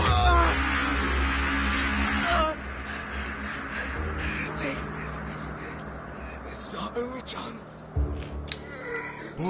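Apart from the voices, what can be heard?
bird calling in a video game, likely a crow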